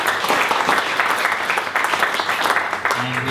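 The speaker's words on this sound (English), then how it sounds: "well done, you can clap." An audience at a speech event claps throughout, a dense patter of hands close by, with a voice faintly overlapping near the end.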